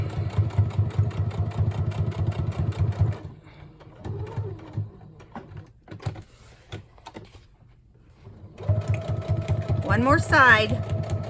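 Sewing machine stitching fabric, a steady mechanical whir in a run at the start, then a pause with light handling sounds, then stitching again near the end while a person speaks briefly.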